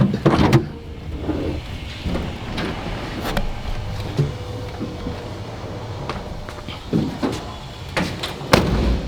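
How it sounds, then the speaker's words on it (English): Heavy doors of an old hearse being opened and closed: several solid thumps and slams with creaks and rattles in between, close by, with no talk. "God, these doors are so heavy."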